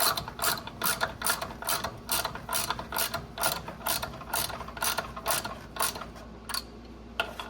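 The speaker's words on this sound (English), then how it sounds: "This is a ratchet only. Take your ratchet," Hand ratchet turning a clutch bolt during a Kawasaki Ridge JBS clutch kit install, a close, steady run of quick metallic clicks in repeated strokes with brief pauses between them.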